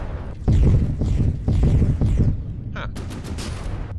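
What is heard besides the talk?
particle cannon firing in From the Depths video game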